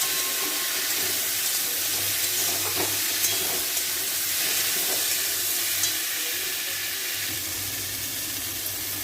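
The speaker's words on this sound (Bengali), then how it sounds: "এবার এটাকে ভালো করে ভাজবো।" Green chilli and turmeric frying in a pan, a loud, steady sizzle with hissing steam and light stirring scrapes running throughout, no voices.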